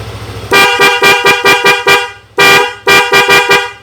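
Loud, close blasts from a Denso waterproof horn fitted to a Yamaha NMAX scooter, sounding in a run of short toots followed by a few longer honks, with nothing else audible.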